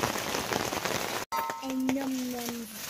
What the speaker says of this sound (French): Et là, il tombe des trompes d'eau, des cordes.